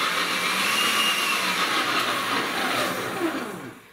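A kitchen food processor whirring steadily as it dices vegetables into cubes for Olivier salad, a loud motor drone with a slight pitch sweep, winding down at the end.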